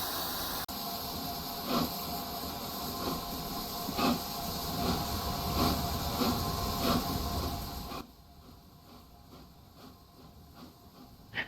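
An LNER A4 streamlined Pacific steam locomotive couples to its train in a train simulator, with a steady hiss and rumble broken by repeated soft clanks and knocks, then fading to a quieter hum.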